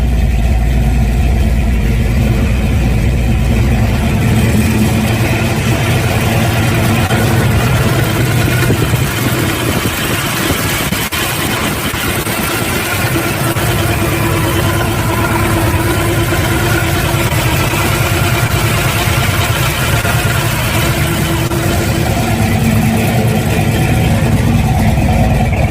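A big V8 muscle car engine idles loudly and steadily for a long stretch, its deep exhaust burbling with a rough, lumpy rumble and no talking.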